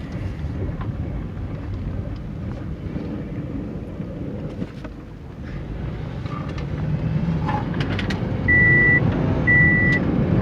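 An all-wheel-drive wagon on a test drive gives off a steady, low engine and road rumble that swells slightly later on, with two short electronic beeps near the end.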